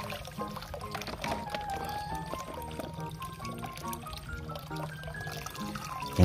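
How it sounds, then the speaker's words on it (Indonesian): Shower water pours over a Thanos toy robot being washed, a steady close splashing stream with faint tonal squeaks and clatter underneath, running without pause. "Wah, malah mandi air pancuran Thanos."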